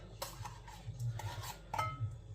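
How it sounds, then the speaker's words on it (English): A spoon stirs mixed fruit cocktail in a bowl for a trifle, giving soft clinks and scrapes in an irregular rhythm, close and fairly quiet, with no speech. "A fruit cocktail. Stir it about a minute."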